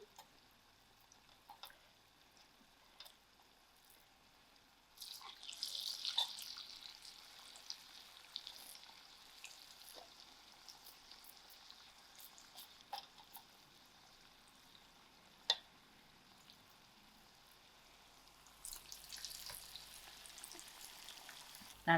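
Falafels deep-frying in heated oil, a steady faint sizzle that swells into brighter crackling bursts as balls drop in, with occasional soft clicks and a louder surge near the end.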